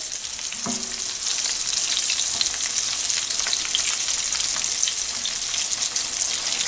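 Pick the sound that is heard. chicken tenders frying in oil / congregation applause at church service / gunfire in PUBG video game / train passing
chicken tenders frying in oil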